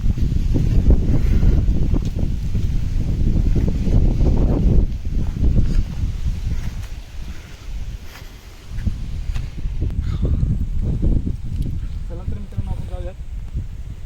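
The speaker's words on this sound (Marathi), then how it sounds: "वारा तर खूप बेकार वारा आहे" Strong monsoon wind on a Konkan hillside buffets the microphone in loud low rumbling gusts that rise and ease, with a person talking throughout.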